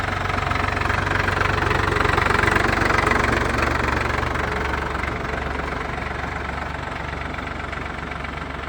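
A farm tractor engine idles close by on a Southern Virginia farm, a steady low knocking diesel-like rumble with constant vibration and no talking.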